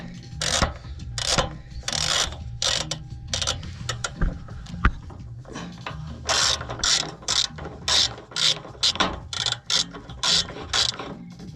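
A hand ratchet working a bolt loose on a Lexus RX fender, loud close rapid clicking in repeated bursts of strokes with short pauses between them.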